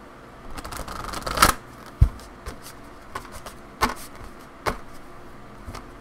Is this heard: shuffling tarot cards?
yes